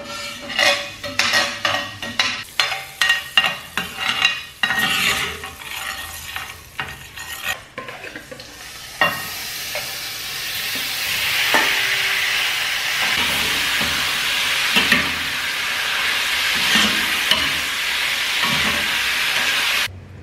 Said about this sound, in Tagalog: Igigisa ko siya sa butter, guys. Para mas masarap.